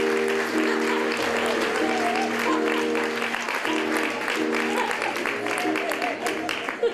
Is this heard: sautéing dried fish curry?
no